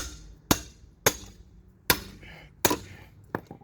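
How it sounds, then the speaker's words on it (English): Sharp metallic whacks from a tool being struck to crack a heavily torqued brake bolt loose during a front and rear brake pad and rotor job, five hard impacts spaced roughly half a second to a second apart, close and loud, no talk. "And then you just want to take it and whack it."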